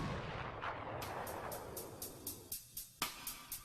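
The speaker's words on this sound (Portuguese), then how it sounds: "Os projéteis disparados por esta arma imitam os detritos de um cometa viajando a velocidades letais" A high-speed gun at the Impact Test Center of the University of Denver, fired with gunpowder, ending in a string of sharp, evenly spaced bangs under a broad rushing roar that falls away, with one louder crack near the end.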